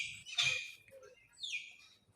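At a wildlife park in Puerto Princesa, Palawan, birds give a sharp squawking call, then a brief softer chirp and a descending whistled note, fairly close and clear over quiet background.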